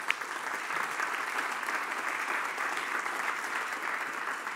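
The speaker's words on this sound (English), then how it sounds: "can you give a round of applause?" Steady, sustained audience applause fills a live music session, a dense wash of clapping that holds at an even level from start to finish with no talking over it.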